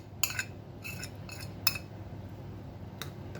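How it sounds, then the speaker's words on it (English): Minced garlic gets mixed into melted butter in a bowl, a utensil clinking against the dish in a few sharp, irregular taps spread across a quiet background. "I'm going to mix it up in this melted butter."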